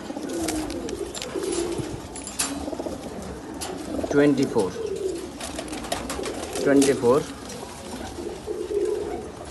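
Pigeons from a Pakistani breeder's shipment to Kolkata coo in repeated rising-falling calls at close range, while someone talks steadily over them throughout.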